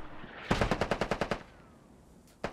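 A fast, evenly spaced burst of about ten loud, close gunshots from a video game, then a lull and one last shot near the end.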